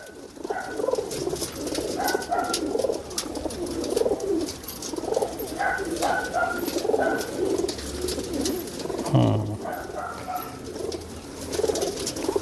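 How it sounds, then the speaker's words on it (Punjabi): Pigeons cooing in a loft, repeated soft throaty coos rising and falling across the whole stretch, several birds at close range with light rustling and scattered clicks beneath. "ਇਹ ਕਬੂਤਰ ਆ ਜੀ"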